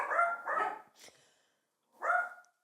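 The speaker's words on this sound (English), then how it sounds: "I stopped them because the dogs are barking" Dogs bark indoors at a modest distance: two quick barks, a pause with a faint yip, then one more bark, all fairly quiet against silence.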